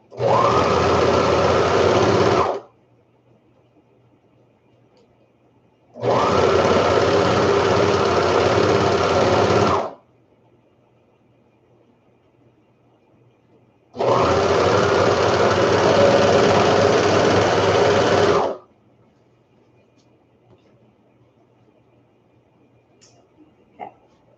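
A sewing machine stitches a seam on kids' lounge pants, running in three steady buzzing bursts of several seconds each with quiet pauses between, close and loud.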